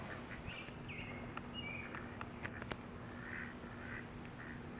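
Scattered duck quacks, some overlapping, rise over a steady outdoor hiss and low hum; the calls sound moderately distant and irregular.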